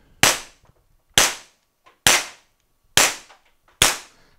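A TR50 cap revolver fitted with a Home Defense 24 Extreme pin fires five sharp, loud shots at an even pace, each a crisp crack that decays quickly into silence.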